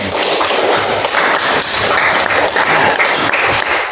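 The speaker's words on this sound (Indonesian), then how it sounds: "tepuk tangan untuk Mbak Eni" A class claps for a student in an Indonesian lesson, a loud, dense burst of hands filling the whole moment without pause.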